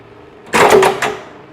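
A clutch-operated press brings a cutting die down on slipper sole material in a small slipper-making workshop. A single short mechanical thunk and press stroke sounds close by, lasting about half a second, with a faint hum beneath it.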